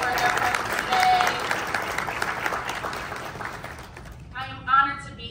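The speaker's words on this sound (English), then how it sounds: "if we can give a round of applause for their presence today" An audience applauds for a jazz band at a college event, a dense burst of clapping that fades toward the end, where a voice begins speaking.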